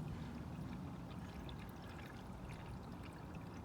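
K-Seal sealant pouring into a leaking water pump, a steady soft trickle and stream of liquid running continuously, faint and close, with no voices.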